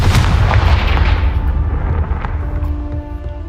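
A Confringo fire spell from Hogwarts Legacy bursts in a loud, booming explosion that rumbles and slowly fades into a ringing tail.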